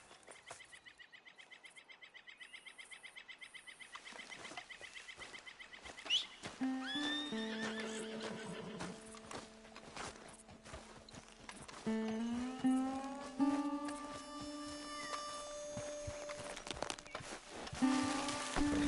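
A horse whinnies several times in drawn-out, wavering neighs, fairly close, with light hoof clip-clop and faint background sounds between calls.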